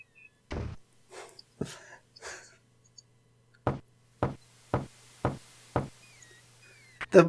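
Knocks on a door in the King's Quest VI adventure game: a few scattered thumps, then a quick even run of five or six sharp wooden raps, with a faint tone and soft clicks underneath.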